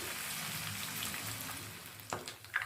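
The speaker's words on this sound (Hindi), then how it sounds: "मीडियम फ्लेम पर मैं इसे फ्राई कर रही हूँ" Masala-coated fish shallow-frying in a pan over a medium flame, a steady broadband sizzle with crackling, plus a couple of sharp clinks or spatters near the end, close and moderately quiet with no talk.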